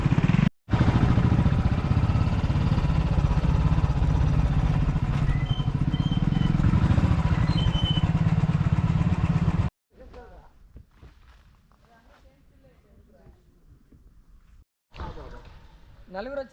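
Motorcycle climbing over rocky off-road terrain on a trail to a hilltop temple, the engine loud and steady for about ten seconds with clattering over rocks, then cutting to quieter outdoor sounds with faint distant noises.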